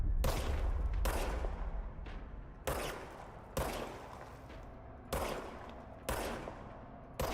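Gunfire from the video game Control: a handful of heavy, booming shots spaced about a second apart, each trailing off into a long echoing tail, loud and close with no talking.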